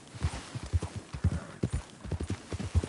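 Horse hooves clip-clop at a steady walking rhythm in Red Dead Redemption 2, moderately close, a run of soft muffled thuds on dirt with no talk over them.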